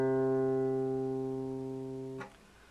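A single plucked fourth (D) guitar string, tuned low and reading as C, rings out with a steady, slowly decaying tone, then is abruptly muted near the end.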